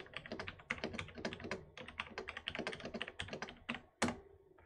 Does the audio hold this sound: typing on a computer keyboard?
yes